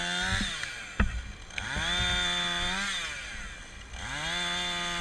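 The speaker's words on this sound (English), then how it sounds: "You can push down hard on the chainsaw to make your logging activities much easier." A chainsaw cuts logs held on a heavy-duty saw horse log holder, the engine revving up and dropping back in repeated cycles with a sharp knock near the start, fairly close and steady, with no talk.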